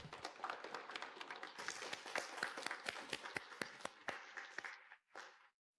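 Audience applauding for a speaker taking the stage, sparse, distinct hand claps at first, then steady clapping that fades and cuts off near the end.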